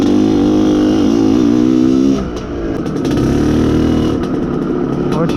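Izh Planeta Sport motorcycle engine being run in, a loud close two-stroke drone that revs and wavers in pitch, dips briefly midway, then settles back into a steady buzzing run.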